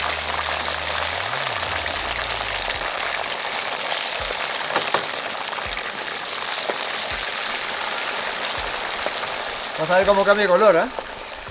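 Cassava pieces deep frying in hot oil, a steady dense crackling sizzle that runs throughout, with people talking over it near the end.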